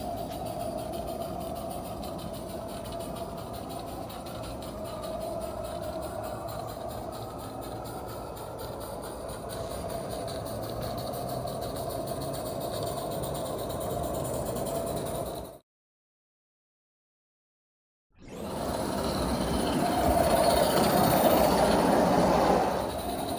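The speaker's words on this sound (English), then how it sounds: "now the train's going uphill." A small live steam model locomotive, a rebuilt Aristo-Craft 0-4-0, chuffs steadily uphill and rumbles along on rails with a constant metallic hum. It breaks off briefly, then returns louder.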